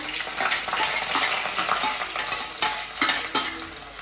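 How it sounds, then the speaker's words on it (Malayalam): Mustard seeds, fenugreek, chopped ginger, garlic and shallots sizzle and crackle in hot oil while being stirred, with steady frying hiss and occasional louder pops and scraping strokes, close and continuous, no talk. "ഉലുവ കടുകിട്ടു, ഉലുവ ഇട്ടു. അത് കഴിഞ്ഞിട്ട് ഇഞ്ചി വെളുത്തുള്ളി ചുവന്നുള്ളി അരിഞ്ഞത്."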